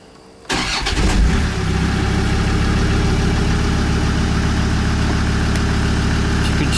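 A Land Rover Discovery 2 engine cranks and catches after an injector loom replacement, then settles into a steady, loud, close idle with a low rumble and no talk.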